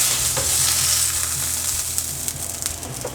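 Pork neck steaks frying in a pan at home, a dense steady sizzle with crackling spits and a few light pops toward the end, close and continuous with no voices.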